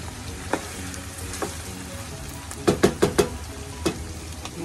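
Pork frying in its own rendered fat for ginataang monggo, a soft continuous sizzle broken by a few sharp scrapes or taps of a utensil in the pan, clustered near the end.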